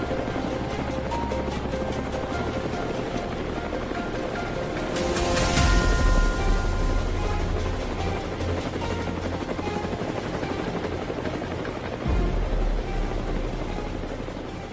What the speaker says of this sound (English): The helicopter roared into the scorching sky